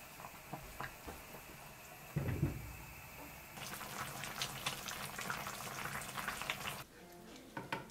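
Pork belly and eggs braise in coconut water in a pot, giving a soft low bubbling simmer that turns into a louder, denser sizzle and bubbling for several seconds before easing back, close and without talk.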